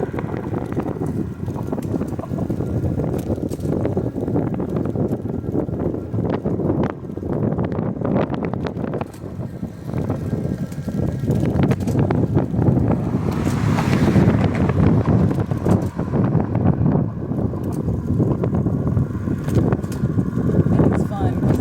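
Steady rushing wind buffets the microphone while an electric bike is ridden along the side of a road. The noise is continuous and roaring and swells louder in the second half, and a person talks over it.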